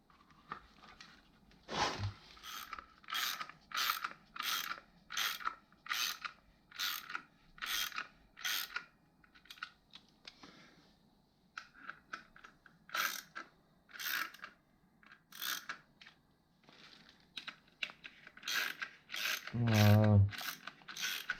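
A ratchet wrench tightens bolts on a BMW F900R engine guard in repeated bursts of rapid clicking, close and crisp, with short pauses between strokes, a soft metallic clunk early on and a brief low buzz near the end.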